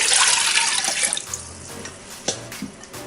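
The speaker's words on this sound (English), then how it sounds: "Then we're gonna add the 10 cups of water." Water pouring from a tap into a stock pot for homemade pho, a loud rushing stream at first that breaks off into a few short splashes and drips.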